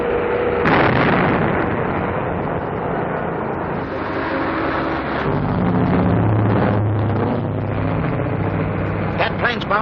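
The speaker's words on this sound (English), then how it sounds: "Bombing the road." Aircraft drop bombs on a road in a 1942 adventure serial. Heavy explosive blasts and a sustained roar fill the scene, loud and dense, with engine-like rumble beneath.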